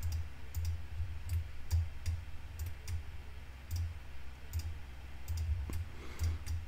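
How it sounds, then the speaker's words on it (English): Steady left clicks of a computer mouse while selecting curves in NX CAD software, sharp isolated taps arriving in an irregular rhythm, close and fairly quiet over a low hum, with no speech. "by left clicking these lines,"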